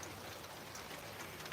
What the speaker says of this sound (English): the rain came before I got to it